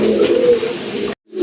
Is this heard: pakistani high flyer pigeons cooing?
yes